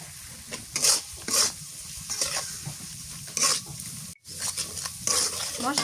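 A spice masala with tomato fries in a pan in a rustic village kitchen, giving a continuous crackling sizzle broken by repeated loud scraping stirs and a brief drop to near-silence, close up with no talking.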